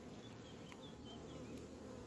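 Honey bees at a small hive or nucleus colony hum in a dense, continuous drone, with individual bees passing closer now and then; no talking is heard over the buzz.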